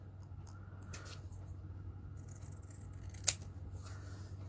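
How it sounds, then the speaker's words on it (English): Long scissors cutting card paper while making a Christmas card, a few faint, soft snips in a quiet room with one sharper crisp cut near the end. "This is why I like to use the longer scissors, because I'm able to get a straighter cut"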